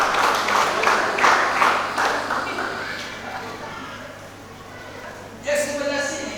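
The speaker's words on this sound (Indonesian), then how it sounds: "Bantu dia tepuk tangan." A church congregation claps hands, a loud burst of rhythmic clapping that fades over several seconds, followed by a voice speaking near the end.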